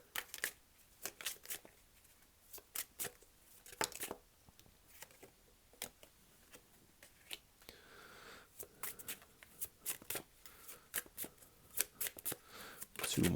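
Tarot cards shuffled for a Sagittarius reading: repeated crisp riffling and slapping bursts in irregular rhythm, close and fairly loud, with a soft voice speaking now and then between them.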